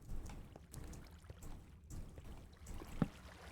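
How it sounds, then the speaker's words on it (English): Faint, steady trickle of flowing water in Minecraft, a quiet pouring wash that continues throughout with one brief louder bump near the end. "Hey, some water."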